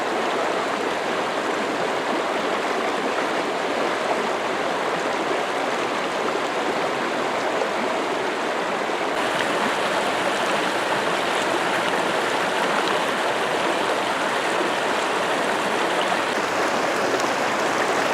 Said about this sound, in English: This is the Virgin River.